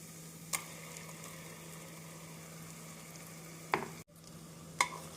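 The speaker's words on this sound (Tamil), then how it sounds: "நம் மசாலா சேர்த்து நன்றாக வதக்க வேண்டும்" Onion, ginger, garlic and ground masala are sautéed in a pan for chicken kulambu, a soft steady hiss of frying with three sharp utensil clicks against the pan, fairly quiet and with no talking.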